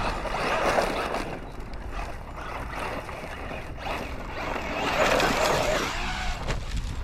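A Traxxas Maxx Slash RC car running on a track, a continuous buzzing whine of its motor rising and falling with throttle, surging louder in bursts around turns, fairly close.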